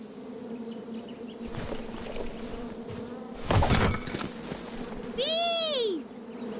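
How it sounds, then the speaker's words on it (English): Bees buzzing in the King's Quest video game on PS4, a steady insect drone under background game audio, with a louder burst midway and a rising-falling tonal sweep near the end. "Bees!"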